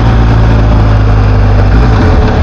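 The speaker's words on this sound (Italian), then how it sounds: "Il motore è molto fluido, Boxer 1250" A BMW R1250 GS Adventure 2022 with its 1250 Boxer engine, a loud, dense, continuous engine roar with strong low-end rumble and steady wind-like noise, as though recorded while riding at speed.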